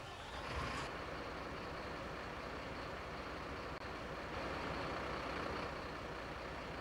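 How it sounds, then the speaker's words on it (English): A fire engine's engine starting and idling in the Emergency Call 112 video game, a steady low rumble with a brief louder burst near the start and no talk. "Let's run the engine."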